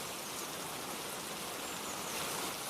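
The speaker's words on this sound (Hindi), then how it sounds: "कितनी जोरदार बारिश हो रही है।" Heavy rain pours down in a steady, dense hiss that fills the whole stretch without a break, with no voices.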